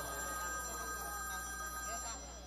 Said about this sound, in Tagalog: Ay, yung telepono mo tumatawag na nagre-ring